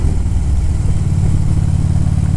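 A Harley-Davidson motorcycle engine runs with a deep, steady, throbbing rumble, loud and close, with no pauses or talking.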